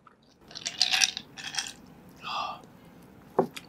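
Close-miked ASMR eating: separate wet bites, squishy chews and a sharp crunch, quiet and intimate with pauses between them.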